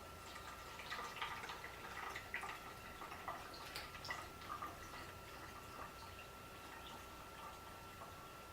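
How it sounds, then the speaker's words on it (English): Ethyl alcohol poured into a spray bottle for a homemade makeup brush cleaner, a faint trickling and dripping with light ticks against the plastic, quiet and close, tapering off toward the end. "I'm going to take my alcohol and I'm going to pour it into my spray bottle."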